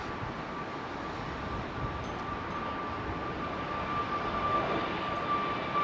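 Airbus A321 at London Heathrow runway 27R, a steady broad jet engine roar with a faint high whine, heard from a distance and swelling slightly toward the end.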